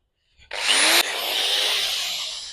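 An electric drill spins up loud and close with a fitting attached while a water tank is installed, holding a steady high whine for about two seconds after a brief start.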